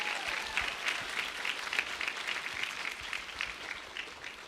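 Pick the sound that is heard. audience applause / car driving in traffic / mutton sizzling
audience applause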